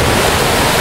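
Rushing water from the waterfall on the raft ride at Europa Park, a loud, steady broadband roar filling the short moment with no break or voices.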